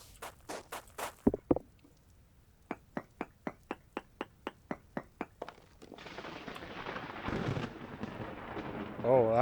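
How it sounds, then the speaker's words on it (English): Thunder rolls in as a broad, rumbling wash in the Vintage Story video game during a storm, following a steady run of crisp footstep clicks; the rumble swells and grows louder toward the end. "Oh, that was thunder."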